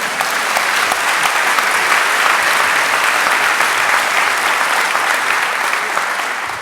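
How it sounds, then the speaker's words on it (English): A memorial service audience for Lewis Katz breaks into sustained, dense applause that fills the hall evenly from start to finish, loud and close, with no voices rising above it. "Let's hear some applause for that."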